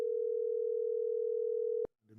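A steady telephone dial tone hums alone for nearly two seconds before cutting off, made when calling back into a town council meeting.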